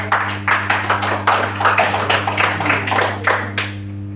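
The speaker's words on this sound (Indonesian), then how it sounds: "Oke, kita tepuk tangan dulu teman-teman." A small group at an indoor sales training session claps, giving a string of distinct, fairly loud claps at a quick, steady rhythm over a low electrical hum, ending after about three and a half seconds.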